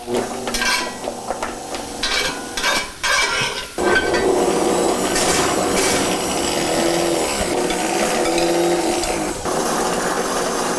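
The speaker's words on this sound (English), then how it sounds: "Now we're blending." A kitchen blender whirs steadily as it blends curly kale, a continuous loud motor drone after some earlier clattering of dishes and utensils, with no talking.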